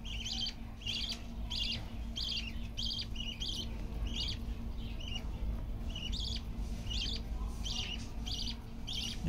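Pet budgerigars chirp and tweet in quick repeated bursts at a fairly steady rhythm, indoors and fairly close, over a low background hum with no talk.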